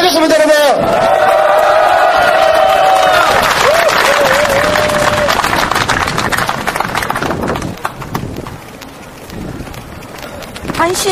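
Crowd at a youth committee protest rally clapping loudly and continuously, dense rapid applause up close that thins out toward the end while someone talks over it.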